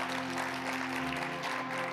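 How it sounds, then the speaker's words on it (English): A church congregation applauds the worship team during a Sunday service, a soft, steady wash of clapping heard at a distance over a faint sustained tone. "y'all give our worship team a round of applause"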